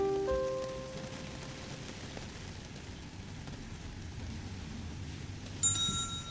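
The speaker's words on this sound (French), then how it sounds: "la pluie a chanté aujourd'hui" Steady rainfall patters on surfaces throughout, a soft even hiss with no voices, while a few clear tonal notes ring out at the start and a brief bright chime sounds near the end.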